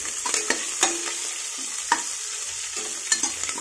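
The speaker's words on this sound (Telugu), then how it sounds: "అలాగే కట్ చేసి పెట్టుకున్న ఆనియన్స్ వేసుకుంటున్నాను" Green chillies and onions frying in a pan for vegetable upma: a short, close crackling sizzle with several distinct clacks of a stirring spoon, no speech.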